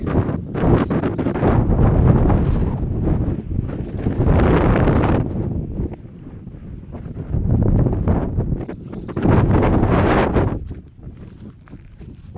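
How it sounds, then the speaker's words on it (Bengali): Strong gusting wind on a mountaintop buffets the microphone in loud, roaring surges that rise and fall over several seconds, with brief calmer lulls between blasts. "মস্ত একটা হাওয়াও লাগে"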